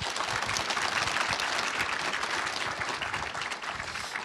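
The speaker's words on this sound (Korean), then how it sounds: "자, 우리 뜨거운 기대의 박수 부탁드리겠습니다." Steady, dense audience applause in a studio setting, many hands clapping continuously at moderate volume throughout with no speech.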